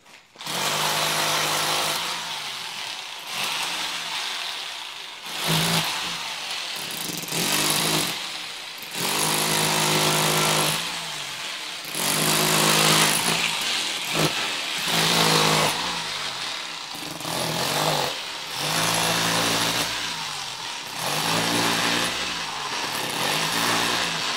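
A power chisel drills into hard stone, its loud motor roaring in steady bursts with brief pauses between runs, close and continuous over the whole stretch.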